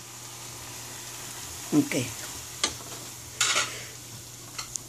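Green peas go into a frying pan with onion for Chinese-style fried rice, giving a couple of soft sizzling bursts and scraping stirs, close and moderate, while someone talks briefly.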